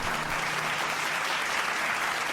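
Steady, dense applause from a crowd at a livestreamed art class, holding at an even level throughout with no pauses.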